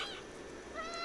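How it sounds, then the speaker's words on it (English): A single short cat meow in the video game Stray, high and slightly quavering, fairly faint and alone. "I can meow."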